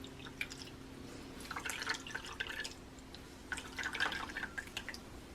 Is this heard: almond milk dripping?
yes